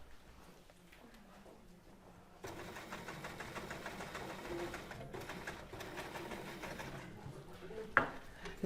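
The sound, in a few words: sewing machine stitching a line on a waistcoat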